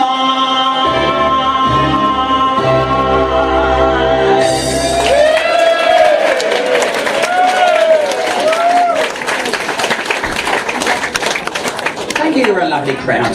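Live audience at a cabaret show at Legends applauding and cheering after a song ends, a dense wash of clapping and shouts that swells and carries on under brief music and voices.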